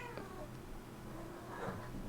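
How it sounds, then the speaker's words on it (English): A pet cat gives two faint, brief meows in the background of a quiet room, the first short and high, the second slightly longer. "I'm sorry, my cat is squeaking in the background."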